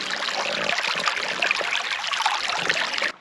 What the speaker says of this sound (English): The sound of water is just so soothing.